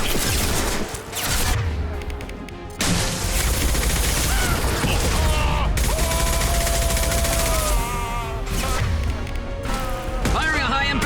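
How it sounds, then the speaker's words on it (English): A high-impact gunshot in Mass Effect 2 during a fight against commandos in a lab facility: sharp, heavy blasts punctuate sustained combat noise, with voices speaking over the action. "Firing a high-impact shot"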